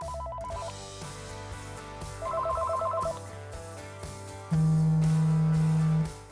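Telephone bell rings in short repeated bursts over background music, followed by a louder sustained tone near the end; no one speaks.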